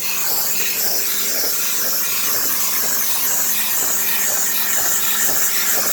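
A carpet cleaning extraction wand making a dry stroke on carpeted stairs, a loud steady whooshing suction hiss held throughout with a faint engine hum beneath.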